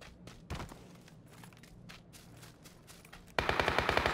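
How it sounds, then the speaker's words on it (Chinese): Gunfire in the PUBG battle-royale game: scattered distant shots crack through the first seconds, then a loud rapid burst of automatic fire with evenly spaced reports closes the clip, with no talk. "走到这里的时候发现前方有激烈的枪声"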